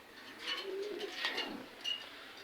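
Pigeons coo in a home loft, soft repeated rolling calls rising and falling over about two and a half seconds, moderately close in a quiet room with no talk.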